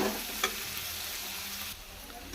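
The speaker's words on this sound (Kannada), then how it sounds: "ಆನಿಯನ್ ಫ್ರೈ ಆಗಿದೆ" Onions frying in a pan, a steady hiss and crackle of hot oil that holds evenly, with a brief scrape of stirring near the start, no talking.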